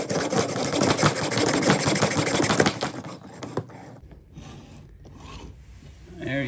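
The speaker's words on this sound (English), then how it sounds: "Hold this and just hacksaw away." A hacksaw cuts through the axle bolt of a luggage wheel in quick, rasping back-and-forth strokes, loud and close for about three seconds, then fainter, scattered scraping and handling noises follow.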